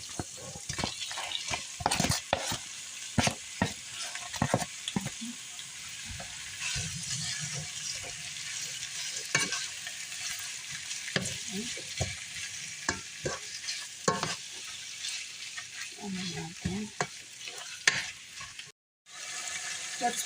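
Ground beef sizzles in a pan for Greek moussaka with onion and garlic, with frequent scraping stirs and faint clatter over a soft, steady frying hiss.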